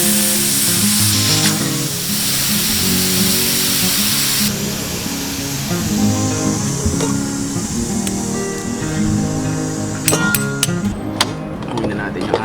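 Pork intestines for chicharong bulaklak bubble in a pot at a backyard cooking setup during a second boil, a steady close hiss and bubbling with a few sharp metallic clinks near the end.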